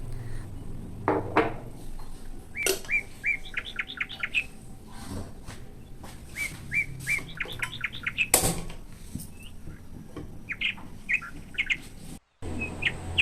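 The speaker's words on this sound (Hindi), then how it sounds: "तो हर वक्त चिड़ियों की चहचहाट होती रहती है और बहुत अच्छी लगती है।" Birds near a nest on a terrace garden plant give repeated bright chirping bursts in quick trills, with short gaps between calls, fairly close, plus a few faint clinks of dishes in the background.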